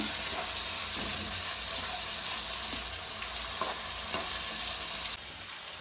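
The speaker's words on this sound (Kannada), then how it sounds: "ಚೆನ್ನಾಗಿ ಫ್ರೈ ಮಾಡೋಣ" Sliced tomatoes frying in a pan for tomato chitranna, a steady close sizzle with a few soft stirring scrapes, continuous and fairly quiet, with no talk.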